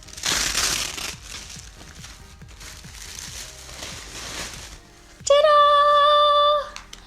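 A wrapped Versace package sealed with a Versace head sticker is unwrapped, with close crinkling and rustling of paper for about five seconds, followed by a brief steady high tonal sound.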